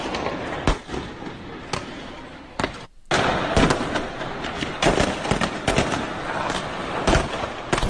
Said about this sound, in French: Trop de feux d'artifice en un même endroit, ça peut devenir dangereux.